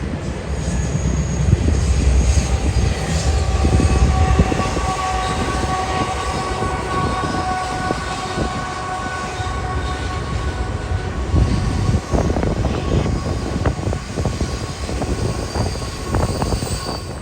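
Southbound freight train 203 carrying long cuts of piggyback trailer traffic rolls through a control point north of Greenville Yard, South Carolina, a loud continuous rumble of locomotive engines and rattling wagons with steady squealing and clanking.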